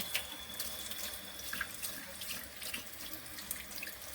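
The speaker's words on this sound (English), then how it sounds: "I'll let the water run anyways" Water pours steadily from a kitchen tap into a sink to rinse canned tuna, a continuous quiet splashing hiss with small irregular spatters.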